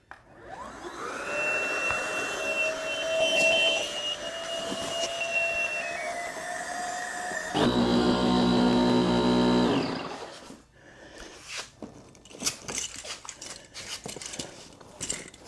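An electric pump inflating the air chambers of a MakoDS, a loud steady whirring drone whose pitch slowly drops and then shifts to a harsher buzz before cutting off, followed by scattered clicks and handling noise.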